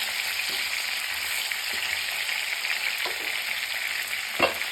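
Koi fish frying in oil in a pan, a dense continuous hiss and crackle with a few soft pops and a brief louder spatter near the end, nothing else heard.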